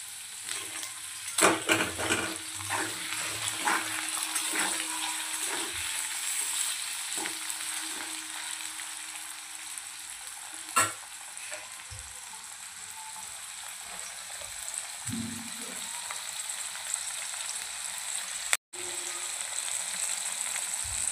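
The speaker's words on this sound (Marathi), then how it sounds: "थोडेसे पनीर आपण या ठिकाणी फ्राय करून घेऊया" Paneer cubes lightly salted and frying in a pan for a chilli masala curry, a steady oily sizzle running throughout with occasional louder crackles and stirring scrapes, close and alone without voices.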